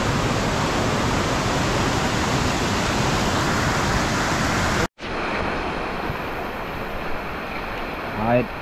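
Steady rain pours down on a mountain pilgrimage trail to Sri Pada from the Kuruwita side in the off-season, a loud, continuous wash that cuts out briefly midway and resumes, with a faint voice near the end.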